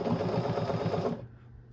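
A home sewing machine runs at a steady, slow pace, stitching a cuff band onto a geometric hoodie. The whirring buzz is close and continuous, then it stops abruptly near the end and quiet room tone remains.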